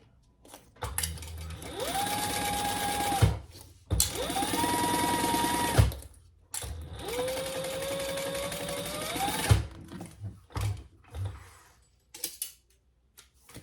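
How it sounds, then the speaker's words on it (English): Sewing machine stitching wallet linings together in three bursts of a few seconds each, a rising motor whine and rapid needle chatter between short quiet gaps, followed by softer handling clicks and rustles. "And stitch that together at the seam allowance in the pattern."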